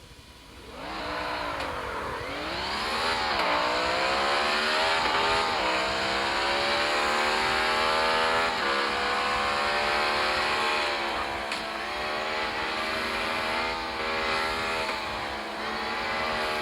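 A racing car's engine in the CarX Street video game drones loud and continuous, its pitch sweeping up and down through gear shifts during a two-lap race.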